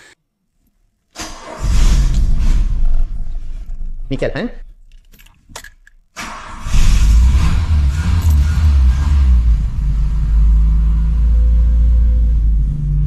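A classic 1980s–90s car engine starts and revs, rumbling loudly with uneven bursts and a short pause before settling into a sustained deep roar; keys jangle at the start and someone speaks briefly.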